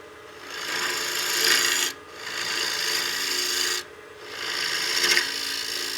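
A lathe tool cuts into a spinning wooden box lid to hollow it concave, a close, rasping scrape in three sustained passes with short breaks between them, no talking.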